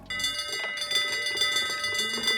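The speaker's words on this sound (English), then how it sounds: "We also have tubular bells, which are played probably about 100 times throughout the soundtrack." Tubular bells ring out in the Sea of Thieves game soundtrack, with bright sustained metallic tones struck repeatedly over a steady musical backing, loud and close.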